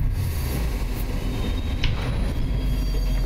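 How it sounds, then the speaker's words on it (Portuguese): A train rumbles along in the video game DARQ, a steady rolling noise with faint rail squeals, alone with no voices. "Deu uma acalmada aí no trem."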